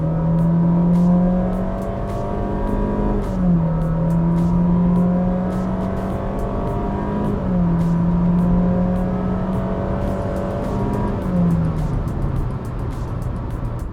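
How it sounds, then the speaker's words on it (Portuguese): Inside a Honda City 1.5 sedan of 126 horsepower accelerating from a rolling start, the engine note rises steadily through several gear changes with brief dips in pitch, loud and continuous with no talk. "Para você ver, mesmo com o carro em movimento, ele retoma muito bem."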